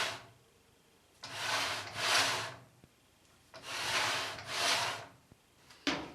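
A circular saw glides twice along a homemade Festool-style track, each pass a broad, steady rubbing swish lasting about two seconds, with quiet gaps and a couple of light knocks between.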